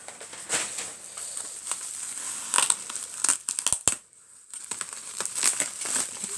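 Bubble wrap packaging from a received parcel crinkles and crackles close by in irregular bursts, with a brief pause before the rustling resumes.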